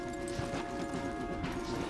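Horses in the Red Dead Redemption 2 video game clop their hooves in a soft, irregular rhythm at a low level, under a steady ambient wash of outdoor game atmosphere and faint tonal music.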